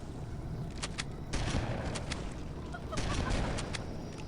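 Explosions and rapid gunfire from Halo: Combat Evolved come in short bursts and pops over a dense, noisy game soundscape.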